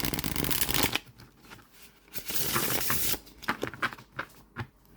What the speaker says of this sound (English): It's a really beautiful shuffle.